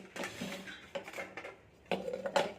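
A metal pressure cooker is handled in a home kitchen while drumstick curry is prepared, with a few faint clinks and clatters and no voices.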